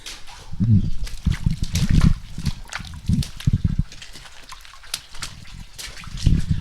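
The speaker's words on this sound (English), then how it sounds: "we're looking at a 4-inch pipe with just a little tiny stream of water coming out" Small stream of water trickling from a 4-inch pipe in a gold mine, with irregular splashing and dribbling close by, steady but uneven throughout.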